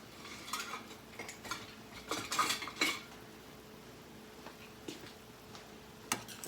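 A metal spoon clinks and scrapes against a pot of giblet gravy with onions and bell pepper, giving sharp ringing taps spread irregularly among quieter stirring, close by with a low room hum.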